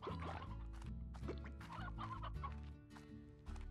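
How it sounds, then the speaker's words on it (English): A rooster in the video game Slime Rancher clucks in a quick, steady run of loud, close calls that carry on for several seconds with no talk. "Do we need an extra rooster?"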